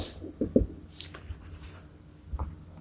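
Marker or chalk writing on a classroom board during a physics lesson, with a few short scratchy strokes and taps heard up close, spaced irregularly, with no talk.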